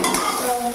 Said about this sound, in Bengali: একটু হালকা তেল দিয়ে ভাজার চেষ্টা করছি